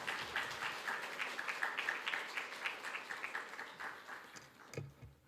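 A church congregation at a Wednesday prayer service breaks into applause, a fairly faint, steady patter of many hands clapping that fades out near the end.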